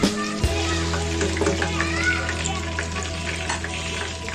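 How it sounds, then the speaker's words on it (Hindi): Masala-coated chira fish drops into hot oil in a pan with a sudden hiss, then keeps up a dense, close crackling sizzle with occasional sharp pops. "फिर मैं इसमें फ़िश को फ्राई कर लूँगी"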